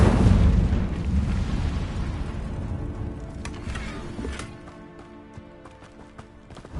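A fire spell blast cast in the wizarding game Hogwarts Legacy, a loud roaring whoosh of flame that starts at once and slowly fades into quieter crackling and ambient game sound.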